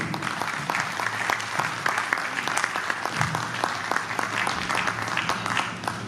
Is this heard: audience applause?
yes